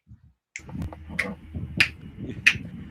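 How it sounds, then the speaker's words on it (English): Fingers snap four times at roughly even intervals, each a sharp, close crack over a low, steady background rumble. "Let me snap my fingers"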